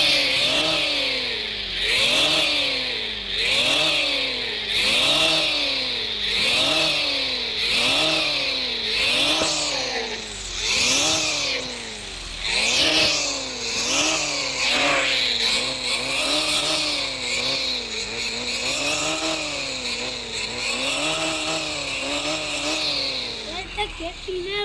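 In the Car Simulator 2 video game, a modified car's engine fitted with a turbo kit is revved hard over and over in a steady rising-and-falling rhythm, then holds a long, loud, buzzing drone near the end.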